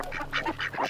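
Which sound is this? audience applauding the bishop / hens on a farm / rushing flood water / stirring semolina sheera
hens on a farm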